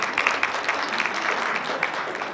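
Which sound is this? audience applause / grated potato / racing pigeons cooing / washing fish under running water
audience applause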